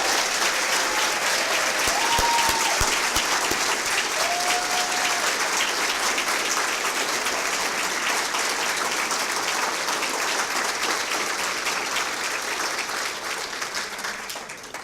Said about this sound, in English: Please join them in giving them a round of applause